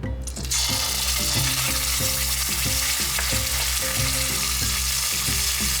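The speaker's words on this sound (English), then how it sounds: "heat up some oil in a heavy based pan. Add in some chili paste" Chili paste sizzles and fries in hot oil in a heavy-based pan for a Malay turmeric fish curry, a steady loud crackle with stirring and scraping throughout, no voices.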